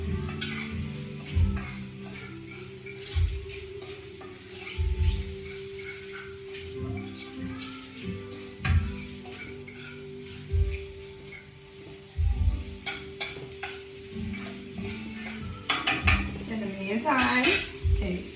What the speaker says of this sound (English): it's just 3 minutes of tossing and turning the shrimp